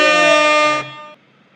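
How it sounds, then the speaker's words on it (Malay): A loud, close air horn sound effect blasts once for under a second, then cuts off and leaves a brief fading tail. "Bagi sikit apa air horn ni."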